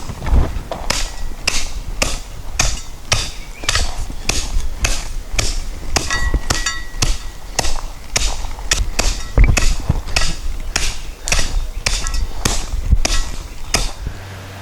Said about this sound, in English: Now we can tamp it.